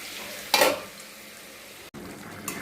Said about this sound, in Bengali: তারপরে তরকারিগুলো ছেড়ে দিলাম। তরকারিগুলো হোক ভাজা ভাজা